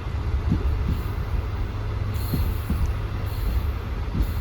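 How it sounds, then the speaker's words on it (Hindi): Awam Express economy-class train pulling away on the Karachi line, a continuous loud rumble of wheels on rails with periodic clacks over joints and a faint high squeal, heard from inside the carriage. "अब हमारी ट्रेन रवाना हो गई है।"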